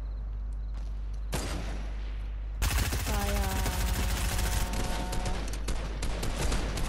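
Gunfire in a Fortnite match: loud dense bursts of shots with explosive booms that start abruptly and continue through most of the stretch, over steady game background noise, with a voice briefly heard.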